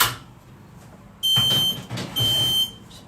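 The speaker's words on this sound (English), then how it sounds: "so you will hear my alarm going off, my fire alarm going off." A kitchen smoke alarm goes off while tofu is cooking, with loud, high, piercing electronic beeps that start abruptly after a quieter stretch and pulse on and off in long bursts.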